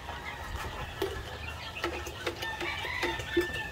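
Unvaccinated chicks clucking and peeping softly nearby, a few scattered short calls over a quiet background.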